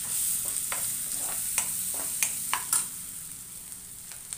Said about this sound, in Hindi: अब डालेंगे ये लहसुन,